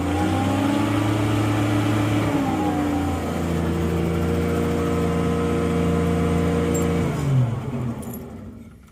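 International 4000 swather engine running steadily at close range, a loud, even droning hum whose pitch shifts slightly a couple of times before the sound fades at the end.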